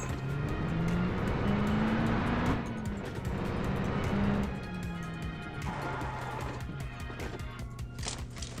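A car engine drives in the PUBG Mobile video game, with a loud, steady engine drone whose pitch rises and falls as it accelerates and eases off, plus scattered clatter and bumps throughout.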